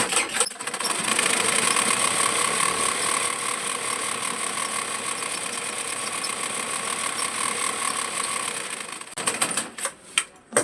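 A sewing machine runs continuously while stitching a petticoat panel, a steady rapid mechanical whir heard close and loud for several seconds before stopping with a few clicks and knocks.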